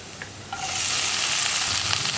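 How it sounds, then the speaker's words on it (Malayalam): Cleaned drumstick flowers for an egg thoran, with chili powder, dropped into a hot pan, starting a sudden, loud, close sizzle after a brief clink and continuing as an even hiss with light stirring. "നമുക്കിനി ഇതിലേക്ക് നമ്മൾ അടർത്തി കഴുകി വൃത്തിയാക്കി വെച്ചിരിക്കുന്ന മുരിങ്ങയുടെ പൂവ് ചേർത്ത് കൊടുക്കാം."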